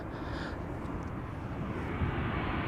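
KLM Boeing 787-10 arriving at Amsterdam Schiphol, its jet engines a steady broadband roar that holds constant and swells slightly toward the end, with no voices.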